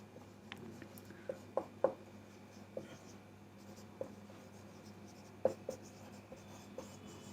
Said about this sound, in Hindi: रुको मैं लिखता हूं।